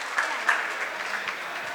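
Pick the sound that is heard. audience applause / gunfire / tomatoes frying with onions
audience applause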